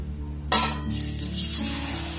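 A battered slice of raw potato drops into hot cooking oil with a sharp splash, then settles into a steady, close sizzle of frying.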